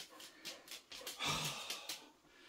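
Dogs snuffle and snort close by in a quiet room, with short bursts of panting breaths and nasal puffs coming in an irregular rhythm.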